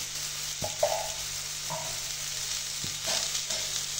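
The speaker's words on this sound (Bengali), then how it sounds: "এখন এগুলিকে ভেজে নেব।" Potatoes dusted with turmeric powder frying in oil, a steady soft sizzle with a few clinks and stirring knocks of a spoon against the pan.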